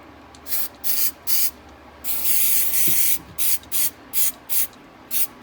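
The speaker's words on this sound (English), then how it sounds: "Something that's good to keep around, electronics cleaner, stuff like this." An aerosol can of electronics cleaner is sprayed on greasy parts of a Milwaukee M12 caulk gun during a repair. Several short, sharp hissing bursts come before and after one longer spray of about a second, all close and loud.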